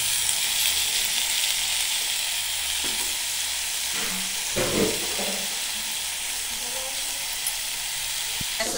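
Boiled safflower greens frying in a hot pan, a continuous close sizzle with stirring clatters and a sharp knock near the end.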